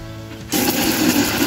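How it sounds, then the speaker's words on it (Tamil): A mixer grinder kicks on after a brief hum and whirs loudly and steadily as it grinds pepper, fennel and curry leaves with water into a paste. "இதை நைஸாக அரைச்சி எடுத்து வச்சுக்கலாம்"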